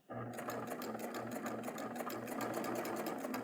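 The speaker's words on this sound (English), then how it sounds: "I'm just going to keep stitching." A serger sewing machine stitches a curve in fabric with a fast, steady mechanical whir and rapid rhythmic clatter, loud and close, running continuously without pause.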